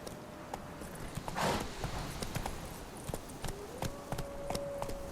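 Hooves of Roach, a horse in The Witcher 3, clip-clopping in a steady walking rhythm, close by and moderately loud, with a brief rushing burst partway through and a faint tonal hum in the background.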